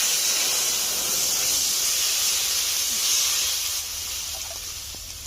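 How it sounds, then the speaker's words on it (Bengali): Water poured into a wok of hot oil left from frying ritha fish, a loud continuous hiss and steam rush that holds for several seconds then eases slightly. "এই তেলে দিয়ে দিচ্ছি জল,"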